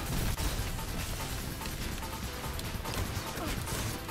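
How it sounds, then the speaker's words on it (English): Vigilance Wing pulse rifle fire amid a Destiny multiplayer match, a busy barrage of sharp cracks and impacts layered into dense battle noise, loud and continuous. "I'm gonna get shot with a vigilance wing"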